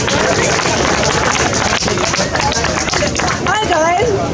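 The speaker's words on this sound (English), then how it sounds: "Everybody, a big round of applause for Julie." An outdoor crowd at a peaceful protest in Queens Park, Toronto, breaks into sustained, dense applause, loud and steady throughout, with a few voices and whistles rising near the end.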